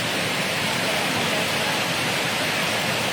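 Heavy rain falling steadily around five in the morning, a dense, even hiss with no breaks, close and loud throughout.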